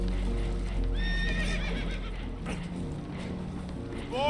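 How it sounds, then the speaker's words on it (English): Spooked horses in the Red Dead Redemption 2 video game whinny shrilly in rising and falling cries over a steady low rumble. Hooves clatter beneath them, and a second neigh starts at the very end. "Horses are spooked"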